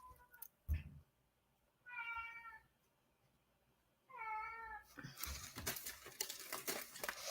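A cat meows twice in drawn-out, clear calls, close and moderately loud in a quiet room, followed by crinkling and rustling noise.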